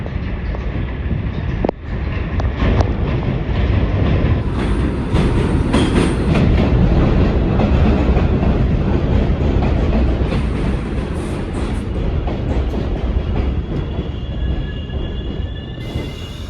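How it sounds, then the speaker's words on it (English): A subway train arrives at Buhre Avenue station in the Bronx, a loud, steady rumble of rolling wagons with clattering wheels and faint squeals that holds close for the whole stretch, easing slightly near the end. "I'll let you know when the next train comes."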